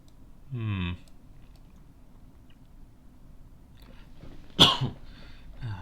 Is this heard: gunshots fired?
no